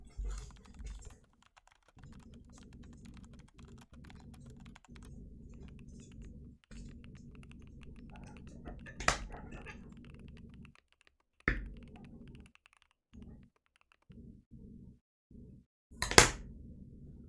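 An upgraded cheap Amazon mechanical keyboard is typed on in a sound test, giving quick runs of crisp, clacky keystrokes broken by short pauses and a few sharper, louder key hits.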